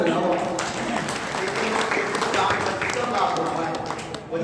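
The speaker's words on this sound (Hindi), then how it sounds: "इसलिए इस परेशानी के लिए जोरदार ताली बजाओ।" A crowd at an Arya Samaj Vedic bhajan gathering gives loud, continuous clapping, a steady wash of claps with voices talking over it throughout.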